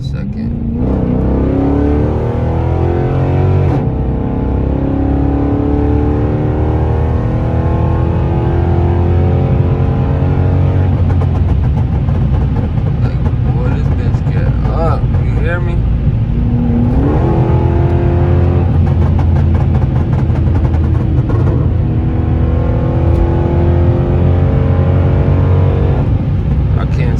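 An all-wheel-drive Dodge Charger R/T accelerates hard on an empty back road, its engine roaring loud and close through repeated rising revs and gear changes while someone talks over it.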